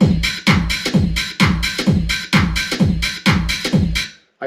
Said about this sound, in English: What I did was I chopped those drums up